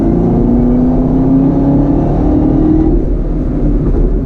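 A 2019 Chevy Camaro ZL1 muscle car engine accelerating hard, a loud, close, steady low roar that climbs gradually in pitch through the pull, with no voices.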